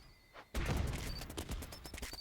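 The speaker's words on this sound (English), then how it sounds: "And again, so many mortars." Video game mortar fire erupts as a dense burst of rapid explosive cracks and thumps, loud and continuous after a brief quiet start.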